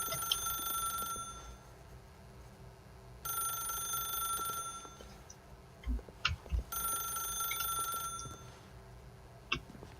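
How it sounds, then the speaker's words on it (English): Telephone ringing in bursts, an electronic bell tone repeating in three spaced rings with quiet gaps between them, moderately close and alone apart from a few faint knocks. "The phone normally only rings about 7 or 8 times."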